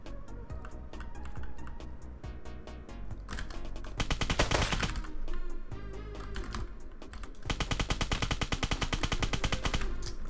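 Rapid bursts of automatic gunfire in the Roblox game Apocalypse Rising 2, loud repeated volleys with short gaps between them, some sustained streams of shots, with no talking.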